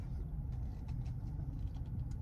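A big pickup truck's engine idles and rumbles low and steady as it is maneuvered into a parking spot, close and continuous with no talk over it.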